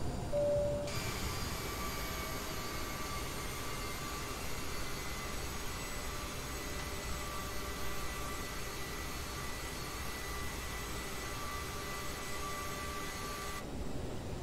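Aerosoft CRJ jet engines in Microsoft Flight Simulator 2020 during rollout and braking after an ILS landing at Hamburg: a steady, loud, unbroken broadband roar that holds for the whole stretch, with no voices.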